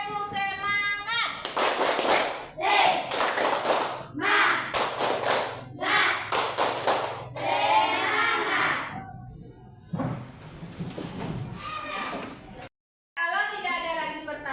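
Schoolchildren in a classroom repeat a rhythmic spirit clap (tepuk semangat), with loud patterned bursts of clapping and thumps mixed with chanting, then a teacher talks afterward.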